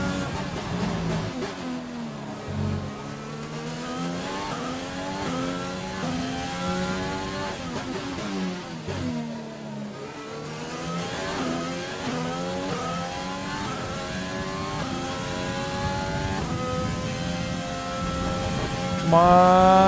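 Formula 1 race car engine in the F1 2020 video game, revving hard and shifting through gears at Baku street circuit, its rising and falling whine continuous and loud throughout, with no talk.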